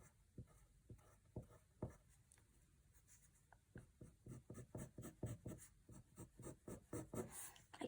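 Quick scratchy strokes of a drawing tool on paper sketch mermaid scales, coming in close, irregular bursts that grow busier and more rhythmic toward the end, with no talking.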